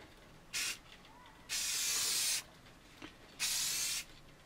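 Spray can laying a gloss coat onto an AMT U.S.S. Enterprise model kit: three separate hissing bursts, a short one then two longer sustained blasts of about a second each, close and loud, with quiet pauses between.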